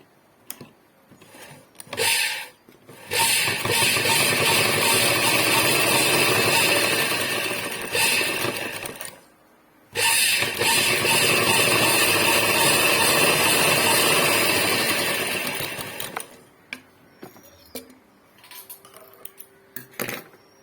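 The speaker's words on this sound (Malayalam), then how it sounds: "ഇനി കാലിഞ്ച് അകലത്തിൽ ഒരു തയ്യലൂടെ തയ്ക്കുക" A sewing machine stitches cigarette pants in two long continuous whirring runs of several seconds each, loud and close, separated by a short pause and followed by quieter handling noises.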